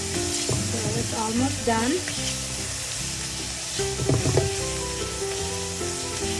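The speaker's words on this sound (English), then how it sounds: "We're going to continue browning it until all the redness is gone in the beef." Ground beef for lasagna sizzles steadily as it browns in a pan, a constant close crackle with brief stirring scrapes, while a person speaks briefly over it.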